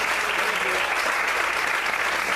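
Church congregation during a sermon claps in continuous, dense applause, loud and even across the whole stretch with no talk on top.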